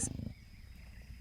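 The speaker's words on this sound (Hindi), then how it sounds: "तेंदुए के गुर्राने की आवाज है।" A leopard gives a single short, low growl that breaks off within a fraction of a second and leaves quiet background hiss, with no voices present.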